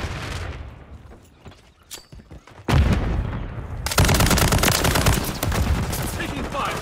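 In a first-person shooter video game, gunfire starts as scattered single shots, then breaks into loud, dense, sustained automatic bursts that fill the foreground, with a voice heard briefly early on.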